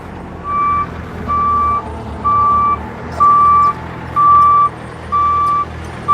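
A dump truck hauling soil to fill a pond backs up with loud, steady reversing beeps, about seven long even tones repeating under a low engine rumble.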